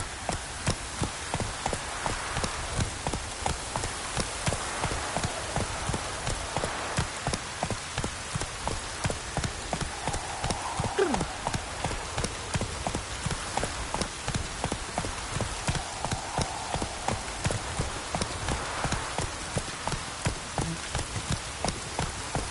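Steady rain pattering on surfaces in The Witcher video game, a dense continuous downpour with many close drops, alone and without voices throughout.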